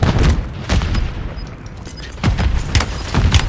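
Grenade blast in the Warzone Plunder game, a loud booming burst followed by further heavy thuds and crackling gunfire, dense and close with no talk.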